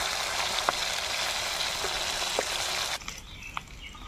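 Aar fish fry in mustard oil in a pan, a steady close sizzle with a few sharp pops and spits that drops abruptly to a quieter, softer bubbling near the end.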